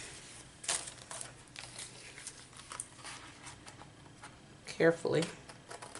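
Scissors cutting tags out of tea-box cardboard, soft intermittent snips and crinkling at close range, with a sharper rustle near the end and a quiet voice speaking.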